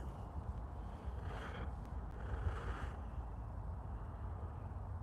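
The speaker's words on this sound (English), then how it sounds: "It's the highway and it's a bit windy" Steady low wind rumble with a faint, continuous wash of distant traffic, brief gusts swelling in the middle.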